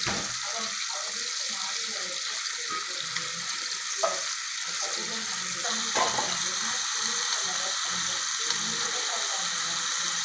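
Chicken pieces frying in oil for butter chicken, a continuous bright sizzle with occasional stirring clinks, close and steady throughout.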